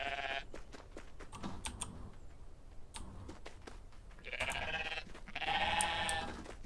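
Bighorn sheep bleat in a video game, with several drawn-out, nasal calls spaced across the clip, rising louder toward the end over a low background.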